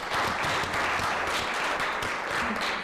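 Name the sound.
audience applause for city council debate candidates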